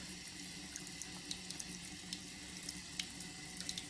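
Tap water runs steadily into a sink while a charcoal and shea butter bath bar is lathered under it, a close, continuous splashing hiss with small clicks and drips.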